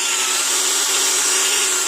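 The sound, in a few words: power drill drilling a hole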